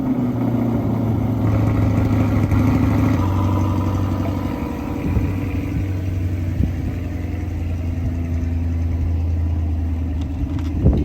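C8 Corvette with an AWE Track Edition exhaust on a cold start, holding a loud, steady rumbling idle with a few small blips, close by.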